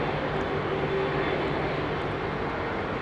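A steady, broadband roar from the engines of a Boeing 787 Dreamliner sitting at London Heathrow Airport, loud and unbroken, with a faint whine running underneath.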